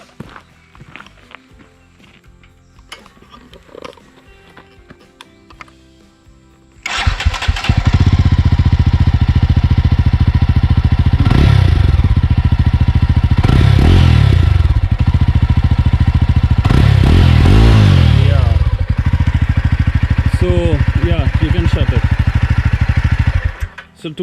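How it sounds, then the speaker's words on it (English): A Jawa 42 motorcycle with its stock exhaust fires up after quiet shuffling, then settles into a loud, steady, close-up idle with a few throttle blips, running until it cuts off near the end. "Why don't you just start the bike?"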